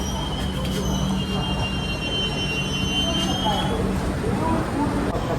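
A train at night at Bolpur Shantiniketan railway station, pulling into platform 1: a steady low rumble of rolling stock with faint high wheel squeal near the start, close and continuous, with background chatter of people.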